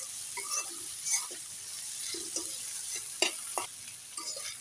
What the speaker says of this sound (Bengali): আদা রসুনটা দিয়ে ভালো করে ভেজে নিলাম।